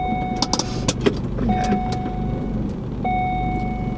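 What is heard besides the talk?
car driving past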